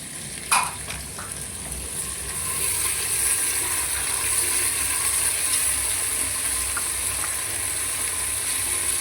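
Onion and tomato drop into a pan of sizzling whole biryani spices, a sharp clatter at the start giving way to a steady, bright frying hiss that continues alone to the end.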